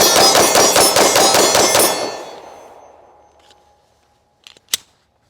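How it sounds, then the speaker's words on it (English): Palmetto State Armory Dagger pistol fired rapidly at targets in a magazine dump, about eight sharp shots in quick succession followed by a long ringing decay and then a couple of faint metallic clinks. "let's do a mag dump and close this thing out"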